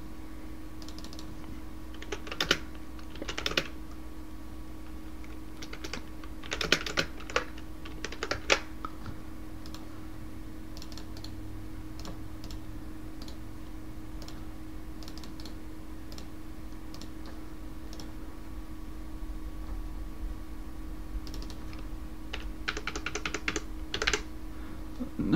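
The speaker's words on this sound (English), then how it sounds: "Let me type that in the compiler." Bursts of computer keyboard typing as code is entered into a compiler, quick clattering keystrokes in short clusters separated by pauses, close and fairly quiet over a steady low hum.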